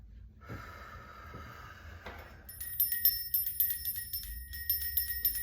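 A bell rings in a quick jingling series of bright repeated tinkles after a couple of soft bumps and low rumbling, moderately close and with no talk.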